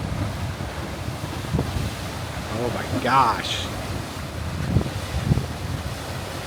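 Ocean waves churn and wash against the Oregon coast in a steady rumbling roar with wind buffeting the microphone, while a person exclaims briefly in the middle.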